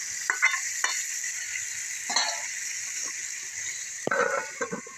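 Chicken and spices sizzle steadily in a pan while a utensil scrapes and stirs in several short bursts, close up with a constant frying hiss underneath.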